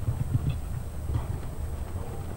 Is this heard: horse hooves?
yes